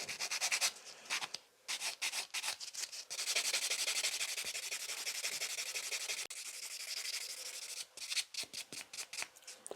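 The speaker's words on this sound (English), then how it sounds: "I'm just gonna gently buff the surface of it, the flakes, just to smooth them out." Close, soft scratchy rubbing as a buffer smooths chrome flakes on gel nails. Rapid strokes come in bursts with brief pauses between them.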